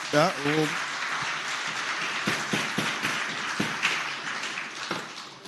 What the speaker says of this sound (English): You definitely deserve 2 rounds of applause with all those accomplishments